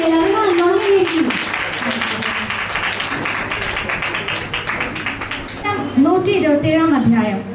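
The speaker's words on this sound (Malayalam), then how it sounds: "എല്ലാവരും നല്ലോണം കൈയടിക്കുന്നു." An audience at a christening claps in a steady, dense patter that swells through the middle, with a voice talking over the applause at the start and end.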